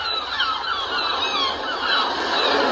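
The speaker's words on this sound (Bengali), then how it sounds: "তারপরে এখানে দেখো পাখিরও আওয়াজ আছে।" Recorded bird sounds from a sleep machine: repeated chirps and whistled calls over a steady, loud background hiss that runs throughout.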